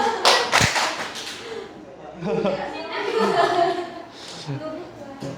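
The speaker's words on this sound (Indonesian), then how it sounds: "Coba tepuk tangan yang paling tinggi." Students in a classroom clapping hands together, a short burst of sharp claps at the start followed by chatter and voices from the class.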